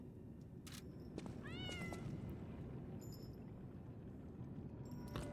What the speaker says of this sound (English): I can't pet the cat.